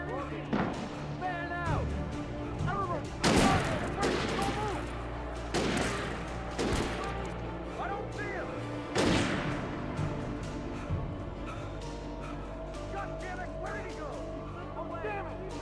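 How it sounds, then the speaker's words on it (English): Police gunfire in the video game Alan Wake: a few sharp, scattered shots ring out amid game music and ambience, with people talking over them throughout. "I love how they're instantly trying to shoot me when it hasn't been confirmed that you've even done anything"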